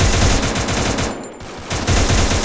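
Rapid automatic gunfire from a shooter video game, featuring a level 3 AUG rifle, crackles loudly in a dense burst, breaks off briefly near the middle, then resumes at full volume.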